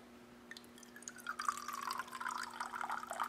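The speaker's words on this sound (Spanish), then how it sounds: "El maestro Zen simplemente agarraba una jarra y llenaba lentamente el agua del empresario." Water is poured slowly from a jug into a cup, a continuous trickling fill whose tone rises as the cup fills, close and clear with no talking.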